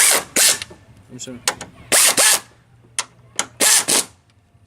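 Ratchet snugging up the front strut bolts on a 2007 Chevy Impala: short clicking bursts in several separate runs, close and fairly loud, with a few spoken words in between.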